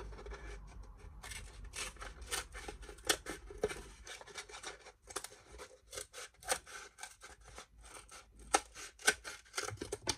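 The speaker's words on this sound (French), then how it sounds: "Je continue à découper." Scissors snipping through paper for a craft display project, a quiet, close series of short crisp cuts in irregular bursts, with brief pauses and no talk.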